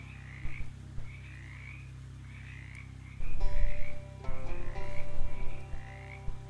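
Frogs in the game Shadows Over Loathing croak in repeated rhythmic calls over a steady low drone, with a louder chorus of overlapping croaks swelling in the middle before settling back.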